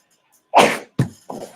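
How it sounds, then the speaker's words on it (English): A sharp, breathy burst like a sneeze, followed by two shorter noisy bursts in quick succession, close and fairly loud. "Even a sneeze is painful."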